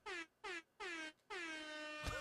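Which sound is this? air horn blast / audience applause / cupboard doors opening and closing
air horn blast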